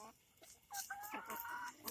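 A chicken clucks repeatedly in short harmonic bursts, close and fairly loud, with a rooster-like crowing quality toward the end, heard alone without talk.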